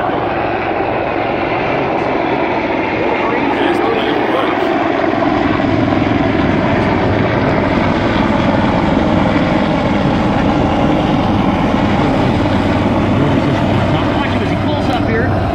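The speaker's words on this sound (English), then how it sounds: "Now watch them. Helicopters are inbound." Loud, steady rotor and engine roar of approaching military helicopters at a Marine demonstration in Detroit, a constant heavy drone filling the whole stretch, with a voice faintly underneath.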